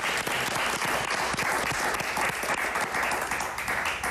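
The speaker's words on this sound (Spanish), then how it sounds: "Un aplauso para Marta González, por favor" Steady, dense studio audience applause for an actress during an interview program, loud and continuous with no talk over it.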